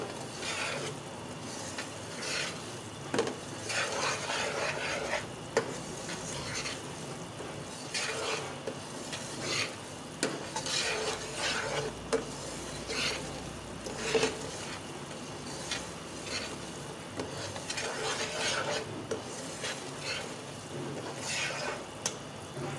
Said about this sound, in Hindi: ये देखें मैं मुसलसल हिला रही हूँ ताकि कहीं से सूजी जल ना जाए।